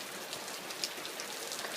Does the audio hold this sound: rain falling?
yes